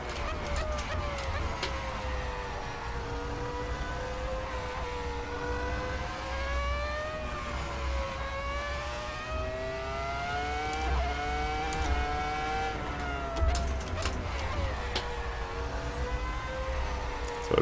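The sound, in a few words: Ferrari F2004 F1 car driven at Spa, Assetto Corsa video game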